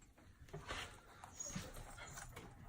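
A dog whimpers and whines faintly in a home kitchen while beef stew cooks, a few soft, uneven cries rising and falling at low level with no speech.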